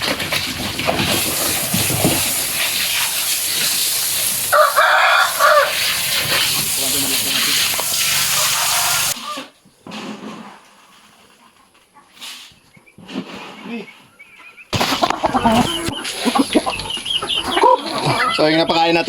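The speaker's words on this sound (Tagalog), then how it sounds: "Yung barako natin, oh, tingnan mo" Rooster and hens on a small Philippine pig farm, clucking and crowing loudly through much of the scene, with a quieter stretch midway before the birds pick up again; someone talks over them at times.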